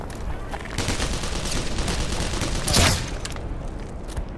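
Rapid weapon fire in the video game Black Mesa: Xen, a dense sustained burst of loud shots with one heavier blast near the end, no talk over it.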